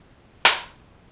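A single sharp hand clap, loud and close, cracks once and decays quickly in a quiet room.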